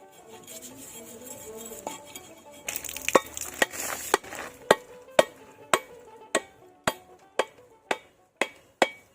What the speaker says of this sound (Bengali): নারকেলটা ফাটিয়ে নিলাম